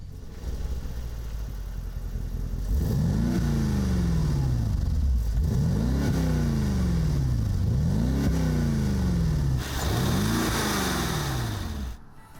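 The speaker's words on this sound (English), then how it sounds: "The 4-liter V8 twin-turbo brings the G500 confidently, almost casually, up to speed with a thoroughly satisfying deep humming roar." A Mercedes G500 with a 4-liter twin-turbo V8 accelerates hard through several gear changes, each one a rising, deep humming roar followed by a brief dip as the next gear engages. It is loud and close, with no talking.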